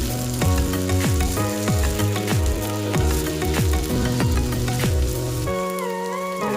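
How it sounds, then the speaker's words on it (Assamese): Soya chunks fry in a pan, a loud, steady sizzle with repeated crackling pops and spatters throughout, easing slightly near the end; no voices. "ফ্ৰাই কৰি আছোঁ।"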